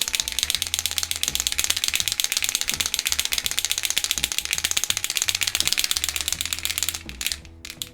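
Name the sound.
shaking a paint pen, mixing ball rattling inside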